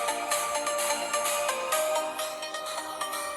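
Loud music with bright tones and steady rhythm plays from the built-in speaker of a Samsung Galaxy A22 5G phone, held close and continuous with no talk over it.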